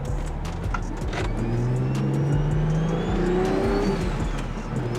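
A built N54 BMW 335i E90 accelerates on the road, its engine note climbing steadily through the gear under a constant roar of road and wind noise, with no voices.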